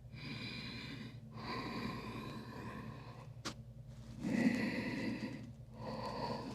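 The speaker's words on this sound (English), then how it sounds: "Deep breathing." Deep, forceful breaths flow in and out during a yoga breathing exercise, long rasping inhales and exhales repeating in slow cycles, close and loud, with a short sharp click midway.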